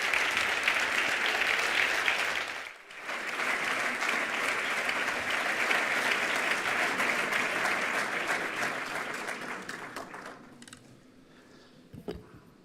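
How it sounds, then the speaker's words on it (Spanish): Strong, sustained applause from a full hall greets a foundation president at a cultural launch event. The clapping dips briefly early on, swells again, then gradually dies away to scattered claps and near quiet. "les ruego un fuerte aplauso para don Jaime Mayer Oreja"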